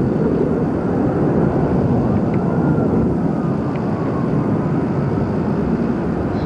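Jet aircraft with afterburners lit pass high overhead above the World Trade Center site on September 11, making a steady, loud, distant roar that fills the whole stretch with no one speaking.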